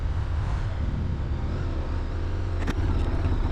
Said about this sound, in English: I love the sound of this engine. Big V twin.